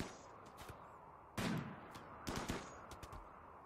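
Gunfire from a colonist shooting at a raider carrying a shield in the colony-management game RimWorld (Alpha 16). It comes as two loud, sharp bursts with several fainter shots scattered between them, and nobody speaks.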